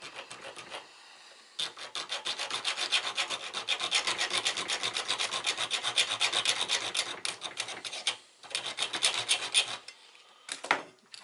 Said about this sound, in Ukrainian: Нам треба зробити надпил для того, щоб можна було використовувати викрутку.